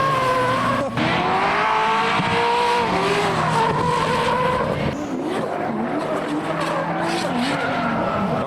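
A modified car spins out and skids at a car show, tires squealing loudly over a continuous engine roar that carries through the whole stretch with no talking.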